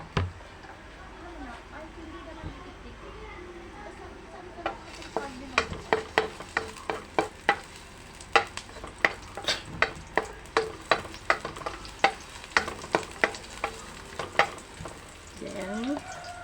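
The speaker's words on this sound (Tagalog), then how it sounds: "lagyan natin ng mantika. Ayan. Lagyan natin ng bawang." Garlic fries in cooking oil, a steady close sizzle broken by a long run of sharp, rhythmic spatula taps against the pan, while a voice talks intermittently over it.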